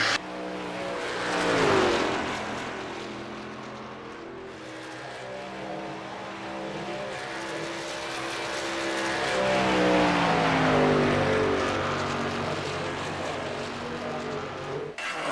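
Race trucks in a diesel truck racing series charge through turn three, engines roaring loudly throughout, pitch dropping as they brake into the corner and climbing again as they power out, with faint tire scrub underneath.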